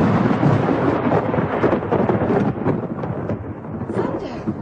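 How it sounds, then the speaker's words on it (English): Thunder rumbles loud and deep over steady heavy rain, a dense continuous roar that swells and eases across a few seconds. "Thunder. Thunder and rain."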